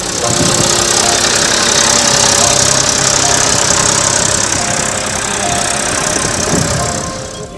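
A tractor engine runs throughout, loud and close, with a steady knocking diesel chug and rattling vibration that never lets up.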